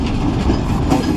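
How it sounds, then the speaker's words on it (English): Long freight train crossing an old wooden trestle bridge over the Menominee River, with a brief close, loud stretch of steady rumbling and wheel clatter. "Where's the end of the train?"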